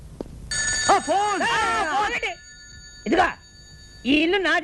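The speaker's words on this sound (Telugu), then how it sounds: "ఆ ఫోన్ నాది, వచ్చే ఫోన్ నాకు వస్తుంది" An old landline telephone rings in a repeated electronic warble, loud and close, in bursts separated by short pauses, with someone speaking between the rings in a Telugu comedy film scene.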